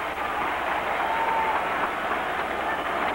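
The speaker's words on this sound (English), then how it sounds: "Listen to this crowd." A boxing arena crowd roars in a sustained, dense wash of cheering near the end of a late round, loud and steady without any clear individual voices.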